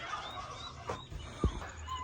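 Common brown turkeys gobble in a backyard bird enclosure, giving a few short, faint throaty bursts scattered among quieter bird chirps and rustling, with no one talking.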